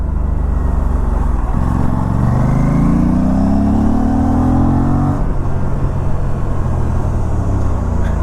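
Motorcycle being ridden, a loud, close engine drone that climbs steadily in pitch as it accelerates through a gear, then drops back to a steady rumble, with no talk.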